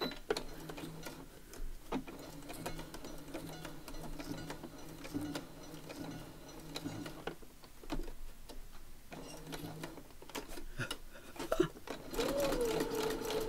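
A sewing machine stitches in quiet, rhythmic bursts with brief pauses between runs, close by at a modest level, while a rising whine near the end suggests the motor speeding up.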